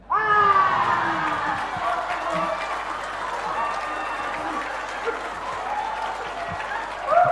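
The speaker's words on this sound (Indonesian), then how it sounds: "Paling banyak ini tepuk tangannya." Audience applause with some cheering fills a hall during an anniversary celebration event, loud and sustained for the whole stretch, swelling again at the end, with a few voices mixed into the crowd.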